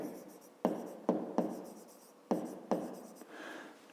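Numbers being written by hand with a pen on paper for a fifth-grade maths exercise, several distinct scratchy strokes in an irregular rhythm, close and clear, no talking.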